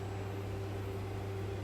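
A household oven runs steadily with a cucumber and spinach meat pie baking inside, giving a constant low hum and fan-like whir with a faint high whine, even and unbroken throughout.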